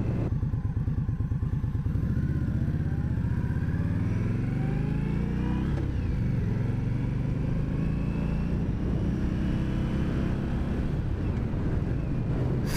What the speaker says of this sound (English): Something about riding a motorcycle is just so different and satisfying compared to being in the car.